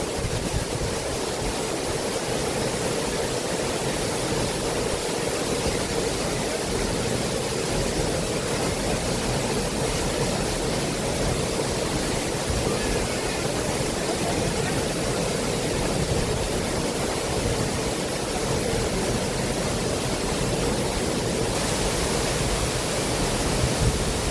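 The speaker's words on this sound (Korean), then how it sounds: "계속적으로 폭포가 떨어집니다." Hongryong Waterfall at Hongryongsa temple in Yangsan, Korea, pours steadily with a dense, unbroken roar of falling water, loud and close, with no voices over it.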